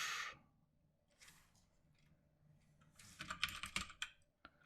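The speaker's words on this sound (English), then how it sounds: "we'll just type in English and type it direct" Soft computer keyboard typing comes in quiet bursts of clicking keys, near and faint, with a louder flurry of rapid taps toward the end.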